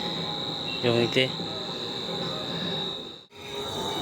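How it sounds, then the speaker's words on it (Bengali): Crickets chirp in a continuous high, steady drone on a dark night of the Kali Puja festival, while a person speaks briefly close by. "চারপাশটা খুবই অন্ধকার, আর অবিরাম ঝিঝি পোকার ডাক।"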